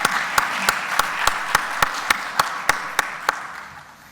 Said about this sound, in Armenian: Ծափահարենք պարոն Սիմոնյանին